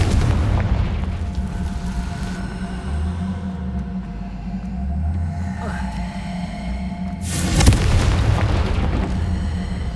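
The Confringo blasting spell in Hogwarts Legacy bursts with a deep booming explosion near the end, following a low rumbling game ambience as a voice speaks in the background.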